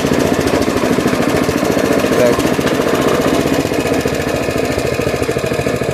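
A garden railway locomotive, a Scamp 118, crawls slowly over points with a steady, rapid mechanical chugging and rattle that stays loud and even throughout.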